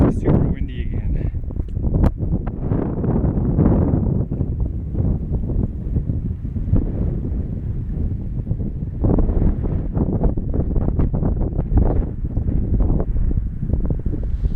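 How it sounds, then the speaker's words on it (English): Strong wind buffets the microphone in continuous heavy gusts, a loud rumbling roar with no clear pauses throughout. "it got super windy again"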